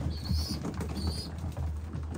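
Racing pigeons in a loft trap make faint, low cooing with soft rustles and wing flutters, quiet and close, with no voices.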